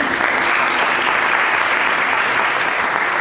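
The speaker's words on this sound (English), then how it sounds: "Round of applause for him." An audience at an annual tribute event applauds steadily, a dense even wash of many hands clapping throughout, loud and close, with no talking.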